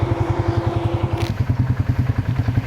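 Quad bike engine idling in snow, a steady low throbbing pulse running throughout at close range, with a brief higher whine near the middle and no talk.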